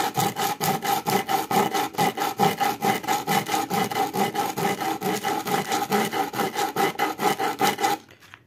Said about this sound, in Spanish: vamos a afilar de una forma sencilla a base de pura lija y piedra